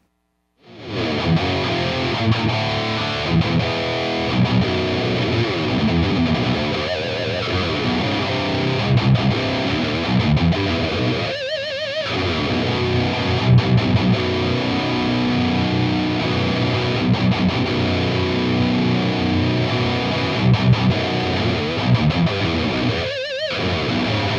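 Electric guitar through an overdrive pedal into a Mesa Badlander amp, playing continuously with a gritty, crunchy tone, loud and up close, pausing briefly twice before carrying on.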